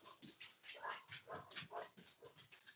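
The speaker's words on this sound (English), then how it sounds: "that's my dog, by the way." A dog whimpers and whines in a series of short, high, nasal bursts with soft panting between them, close by and fairly quiet, with no one talking.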